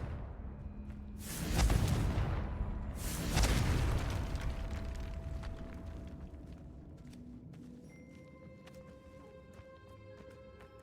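A Confringo spell explodes in Hogwarts Legacy, giving two heavy, booming blasts a couple of seconds apart. Each is followed by a rumbling decay, then quieter game ambience with faint tonal effects.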